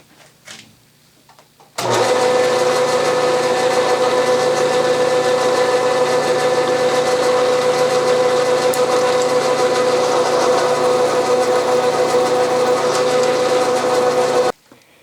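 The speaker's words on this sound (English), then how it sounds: "the final operation, reaming at slow speed" A drilled hole in a Greenfield tap wrench is reamed at slow speed, producing a steady, loud mechanical whir. It starts abruptly, holds an even drone for about thirteen seconds, then cuts off sharply.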